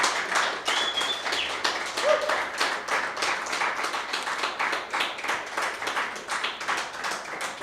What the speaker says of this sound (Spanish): Dele un fuerte aplauso al Dios vivo.